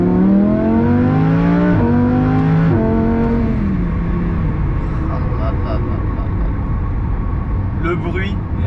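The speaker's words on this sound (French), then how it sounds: "Le bruit est vraiment magnifique. Alors c'est dû également à l'échappement performance qu'a mis le propriétaire." Lamborghini Huracán with 610 hp and an aftermarket performance exhaust, loud and close, its engine note climbing and dropping through quick gear changes with sharp pops at each shift, a steady roar continuing afterward.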